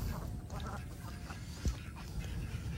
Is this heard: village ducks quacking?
yes